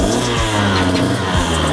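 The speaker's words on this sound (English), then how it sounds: "So that's what it sounds like. This is actually called a KTM 2016" A 2016 KTM motocross bike idles in neutral close by, its engine holding a steady, throbbing tone that dips briefly in pitch a few times, loud and continuous with no talking.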